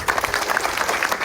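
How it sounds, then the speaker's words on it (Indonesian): An audience at a regency official's visit to a Papuan district applauds the regional secretary, dense clapping from a nearby crowd with a faint voice underneath for just over a second. "Tapi kita beri aplaus untuk Pak Sekda."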